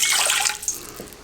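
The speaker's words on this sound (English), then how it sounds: "Half cup of cold water, filtered water from my well." Cold filtered well water is poured into a bowl for pizza dough, a short bright splashing stream that is loud and close, then tapers off within about a second.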